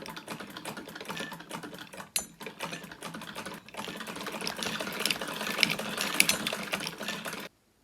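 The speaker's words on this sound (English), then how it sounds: "I'm sewing twiddly-dee bits onto a curtain" A sewing machine stitching decorative trim onto a curtain runs in fast, steady rattling bursts with brief pauses, close and clear throughout, with no voices.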